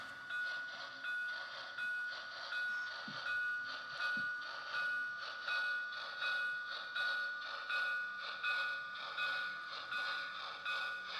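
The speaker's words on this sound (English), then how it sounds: "As our train comes down here on the main line, it's going to cross the crossovers here" An HO scale model train runs along the main line over crossovers on a club layout. It sets up a soft, rhythmic clicking pulse under a steady high ringing tone, with a couple of faint knocks.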